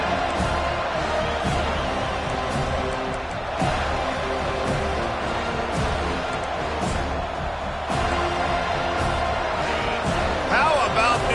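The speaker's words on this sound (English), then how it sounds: "How about this crowd rattling the rafters and trying to help their defense?" Football stadium crowd roaring loudly and steadily throughout, a dense wall of cheering and noise with no break, trying to rattle the opposing offense.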